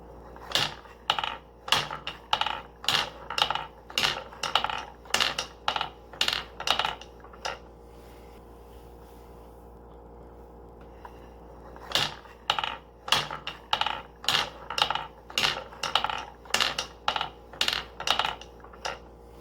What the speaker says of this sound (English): This next fun model is called a single part feed mechanism, and it came from this book, Making Mechanical Marvels in Wood